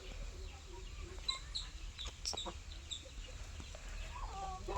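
Active chickens cluck and call in a scattered, irregular chorus, faint and somewhat distant, with occasional louder squawks over a low background rumble.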